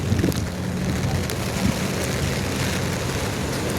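Heavy rain falls at night as a steady, dense roar that continues unbroken, with no voices present.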